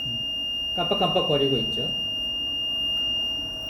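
A device buzzer sounds during a safety power reset as a steady, continuous high-pitched tone that runs unbroken through the whole stretch while someone speaks over it.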